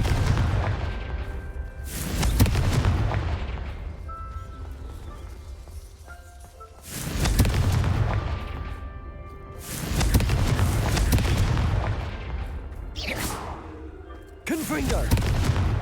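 Confringo spell explosions in Hogwarts Legacy, four heavy booming blasts spaced a few seconds apart, each trailing into a rumbling decay, with a voice briefly audible between them.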